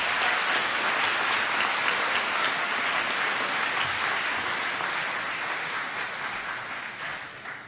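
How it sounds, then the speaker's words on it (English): Students in a large audience at a senior recognition day applaud their family members, a dense, steady wash of many hands clapping that holds strong for several seconds before slowly tapering. "Students, would you give your family members a round of applause?"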